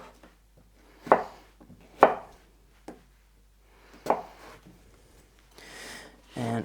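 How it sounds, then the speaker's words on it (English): A knife slices lengthwise through food on a cutting board in a few sharp, separate strokes, close and fairly quiet, with gaps of near-silence between the cuts. "And cut it lengthwise again the other way."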